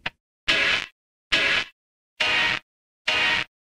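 A lo-fi reggae skank guitar goes through the Eventide Crush Station distortion plugin, playing four evenly spaced, gritty, fuzzy offbeat chord stabs with silence between them.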